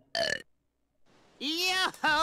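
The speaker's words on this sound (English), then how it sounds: "Crash, quit burping in my ear" Crash Bandicoot burps in Crash Tag Team Racing, two short throaty belches separated by a pause, loud and close, with a voice heard around them.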